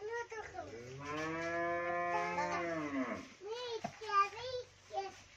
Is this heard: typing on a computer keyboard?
no